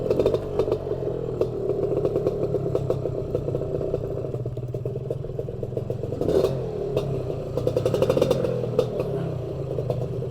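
A CASA SST 265 motorcycle engine runs at idle close by, a rough continuous putter with rhythmic clattering pulses and brief louder bursts as it revs slightly, no one speaking.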